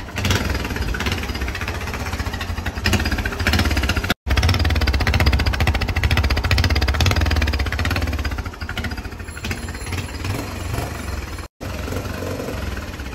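A motorcycle exhaust fitted with a homemade DB killer idles steadily and close by, a continuous rough, pulsing engine drone with a couple of brief cutouts.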